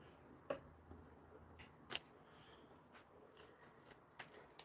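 Scissors snip the excess zipper ends off a sewn fabric pencil case, a few faint, sharp clicks spread out against a quiet room.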